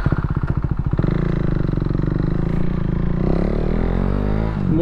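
A motorcycle on a morning ride toward Tagaytay or Laguna, a loud close engine with a steady pulsing drone that rises in pitch as it accelerates near the end.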